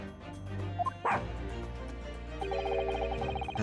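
Toby the dog from the video game The Great Ace Attorney gives a few sharp yips and barks close up, over a soft bed of game music.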